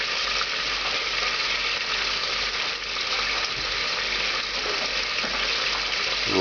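Tomato sauce with vegetables cooking in a pan, left unstirred: a steady, close, even sizzle and bubbling hiss that holds level throughout with no pauses or talking.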